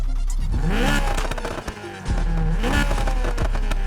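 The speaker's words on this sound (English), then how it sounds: "We're gonna go over to this exhaust so you guys can hear this Force 2-liter inline 4." A Honda S2000 race build's 2-liter inline-four exhaust in Need for Speed Heat revs hard and loud, with rising and falling pitch, crackles and pops, a brief dip in the middle, then climbing again.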